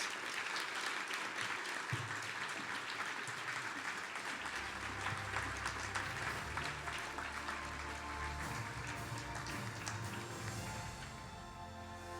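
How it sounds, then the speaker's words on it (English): Applause at the 2024 Outstanding Directors Awards honoring Jodee Kozlak, a steady roomful of clapping joined by low music that swells in midway, easing slightly toward the end. "I want you to give a big round of applause for Jodee Kozlak"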